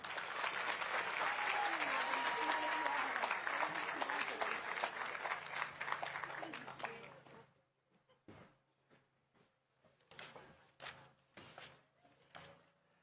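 An audience at the South Carolina Teacher of the Year announcement claps for the district teachers of the year, a full sustained round that tapers off after about seven seconds, followed by a few scattered individual claps and faint sounds.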